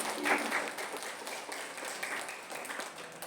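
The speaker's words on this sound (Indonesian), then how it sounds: "Berikan tepuk tangan buat Tuhan kita." Congregation at a children's Christmas celebration at a church school claps together, a moderate, fairly even burst of applause lasting a few seconds in a reverberant room.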